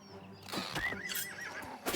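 A horse in a video game whinnies loudly up close, a wavering neigh lasting about a second, with faint hoof sounds around it.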